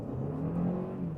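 A Kia XCeed GT Line pulls away hard from standstill, the engine rising in a short, steady rev with a low whirring drone heard from inside the cabin.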